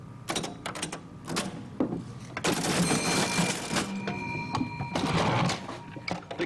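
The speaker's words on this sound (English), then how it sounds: "The cash register doesn't ring as much as it used to, but it does ring enough to keep 86-year-old Doc Gray in business." Old-fashioned cash register at an elderly shopkeeper's business in Huntsville, clattering with mechanical key clicks, a drawer rattle and bell-like ringing in several bursts, close and fairly loud, with no talking.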